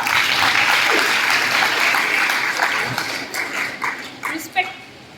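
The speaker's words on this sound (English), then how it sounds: "Big round of applause for Apurva." Applause for a school poem participant, dense clapping from a large audience that swells then breaks into scattered claps and fades, with a dog barking and voices faintly in the background near the end.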